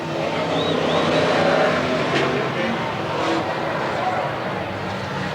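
Sportsman race cars roar off at the green flag of a first heat race at Willamette Speedway in 1991, a loud, dense engine blare filling the whole stretch with brief rising revs, a commentator talking over it.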